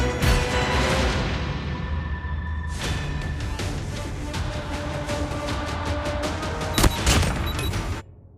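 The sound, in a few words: Predator missile strike in Call of Duty Mobile video game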